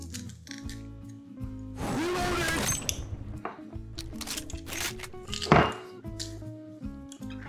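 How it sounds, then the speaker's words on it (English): A garlic press crushes garlic cloves for pizza soup in a home kitchen, giving a close, squelching crunch and scraping that sits over steady background music. "I'm gonna need my garlic smoosher, and that later. We're gonna smoosh garlics."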